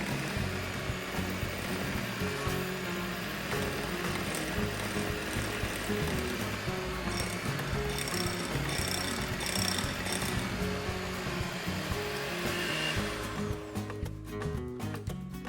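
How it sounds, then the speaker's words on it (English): A hand mixer whips macaron meringue made by the Swiss method, a steady loud buzzing whir with rattling beaters held close and unbroken throughout, growing choppier near the end. "You can actually use a hand mixer."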